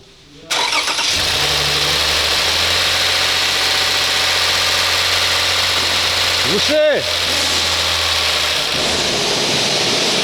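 A Toyota Highlander with the 3.5-litre 2GR-FE engine cranks and fires. It settles straight into a loud, steady idle that runs to the end, and a voice is briefly heard over it.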